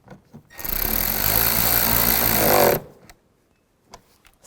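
A power screwdriver drives screws into the trim of a Nissan Xterra during rear-view mirror replacement, giving one steady, close whirring run of about two seconds before it stops, with a few faint clicks afterward.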